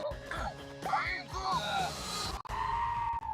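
Giant goats from a Thor film scream in loud, wavering, bleating cries, several overlapping calls in quick succession, close and harsh with short breaks between them.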